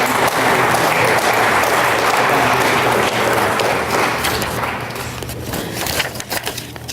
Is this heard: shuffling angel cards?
no